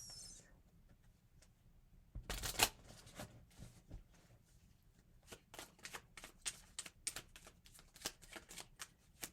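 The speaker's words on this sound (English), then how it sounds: "I just kind of want to pull some blessing cards for the signs with this full moon." Blessing cards being shuffled by hand: soft riffling flutters and a burst of quick card slaps, then a run of light, rapid clicks and taps, close and quiet.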